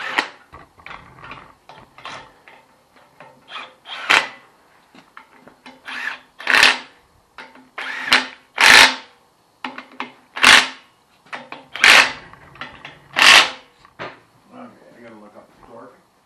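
Ratchet wrench tightening bolts on a Dana 60 differential, rapid clicking bursts in repeated close runs, separated by short pauses and punctuated by sharper metallic knocks.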